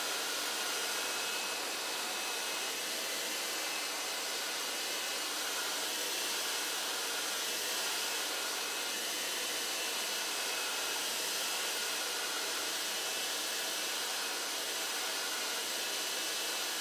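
A hair dryer on its cool setting blows steadily while drying hair, a constant loud rushing hiss with no pauses and no talking.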